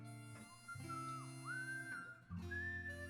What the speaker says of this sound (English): Is there whistling in this song right now?